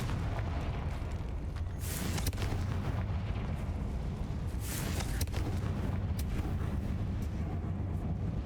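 A deep, rumbling blast from the Confringo spell in Hogwarts Legacy, with a couple of sharp bursts over a steady low roar of magical combat.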